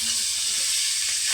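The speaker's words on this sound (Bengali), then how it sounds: "তেল সুন্দর গরম হয়ে গেছে, মাছটা ভেজে নেব।" Silver carp fish heads frying in hot oil make a dense, loud, close sizzle throughout the brief moment, with no voices.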